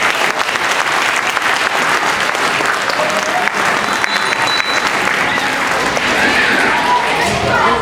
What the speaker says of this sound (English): can we give one more round of applause to the orchestra?